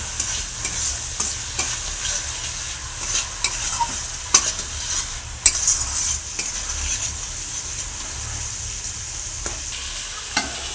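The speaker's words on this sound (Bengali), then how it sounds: "আর একটু ভাজা ভাজা করে নেবো মশলাটাকে নুন হলুদ দিয়ে" Spice paste with salt and turmeric sizzles steadily in a hot pan while a spoon scrapes and stirs it, with occasional sharper clicks of the utensil against the pan.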